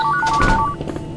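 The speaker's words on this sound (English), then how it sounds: "the phone is ringing non-stop today" A telephone rings in the horror game Midnight Scenes, a loud, near electronic warbling tone in short repeated bursts that cut off after about a second.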